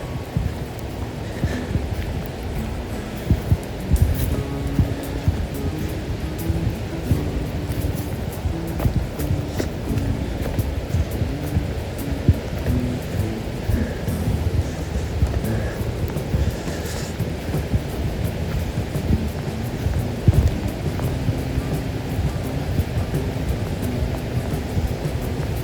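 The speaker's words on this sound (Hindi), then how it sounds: "ये पानी की आवाज़ आ रही है, यहाँ से बह रहा है पानी, बहुत सारा पानी बह रहा है।" A Himalayan mountain stream rushes and flows steadily with a dense, continuous roar of water that stays even and close throughout, with no voices over it.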